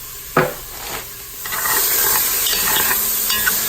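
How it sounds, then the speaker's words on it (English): Onions sautéing in a pan for black-eyed peas and sausage, a few clattering stirs, then a loud, steady sizzle with crackles close up, no voices. "we're going to saute this down until the onions are transparent and translucent"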